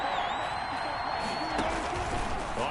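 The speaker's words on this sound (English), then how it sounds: "this crowd's going to get even louder" A steady roar from a stadium crowd at a Seattle Seahawks football game, a dense, continuous wash of noise with scattered whistles and shouts, and no break in the din.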